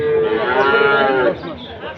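A cow lows at a rural cattle market in Rangpur, one loud, close, drawn-out moo lasting over a second, followed by quieter market background.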